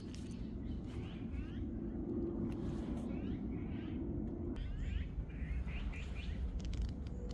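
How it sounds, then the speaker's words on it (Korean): Birds sing in a forest at sunset, with repeated chirps and warbling phrases rising and fading at moderate distance over a steady low rumble. "해가 지고 있는 숲속에서는 오늘 또 어김없이 아름다운 새들의 음악 소리가 커졌다 작아졌다"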